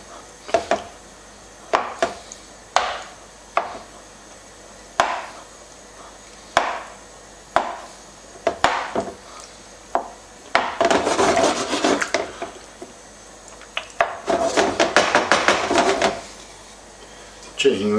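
A utensil breaks up chicken and avocado fusilli in a pan, landing in sharp, irregular knocks and scrapes at close range, then turning into quicker bursts of rapid scraping.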